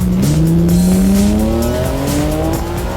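A Holden Commodore street car drives hard, its engine loud and close as it revs and climbs steadily through the gears, with a tire squeal alongside and no one talking.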